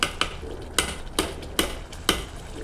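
A chickpea flour curry cooking in oil in a home kitchen pan is stirred in about five evenly spaced scraping strokes, close and moderately loud, over a faint background hiss.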